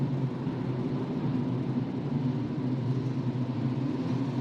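A Formula 3 race car at a 2021 F3 Asian Championship race holds a steady mid-pitched engine drone during a safety-car restart, a constant muffled rumble heard from a distance, with no commentary over it.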